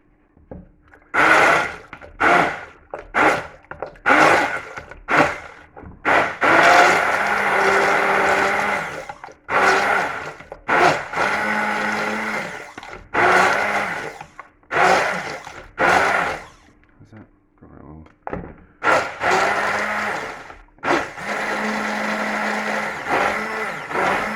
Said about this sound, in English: and then a hand blender